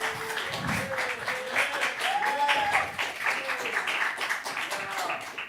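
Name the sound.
audience clapping for a master student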